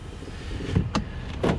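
The power window motor on a 2013 Ford Edge SEL whirs in a couple of short, close bursts inside the car, with faint interior background noise between them.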